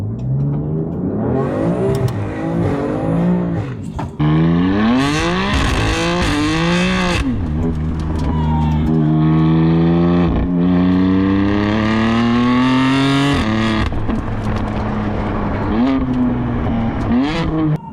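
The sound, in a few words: BMW F80 M3 with Scorpion exhaust revving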